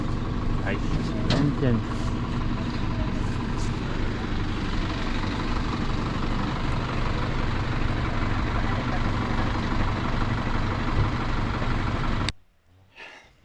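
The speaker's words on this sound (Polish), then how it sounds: "Więc możemy jechać na górę, zobaczyć czy przejedziemy w tym stanie drogi takim super traktorkiem." A tractor engine runs steadily at close range, a dense low idling rumble that holds for about twelve seconds before cutting off abruptly.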